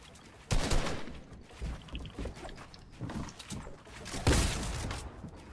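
SMG fire in a building shooter game, several sharp bursts spaced irregularly across the clip, loud and close with short quieter gaps between them.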